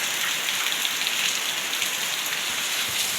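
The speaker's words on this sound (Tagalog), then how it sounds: "Tanawa ang ulan guys," Heavy rain pours down in a dense, unbroken hiss, with drops drumming steadily on surfaces nearby throughout.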